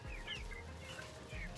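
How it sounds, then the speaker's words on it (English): Australorp rooster clucking at close range on a small organic farm, a steady run of low, soft clucks with brief pauses, set against constant background noise and faint chirps from other birds. "our Australorp, our rooster, is extremely healthy"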